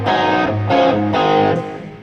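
An electric guitar plays through a TC Mojo distortion pedal into a Marshall amp, giving medium-gain overdrive; three sustained, loud chords ring out one after another, each held before the next, with no talking.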